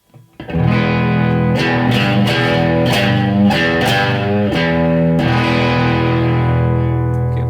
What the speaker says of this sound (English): If I start adding a little bit more distortion with the guitar, then you'll hear it sounds a bit more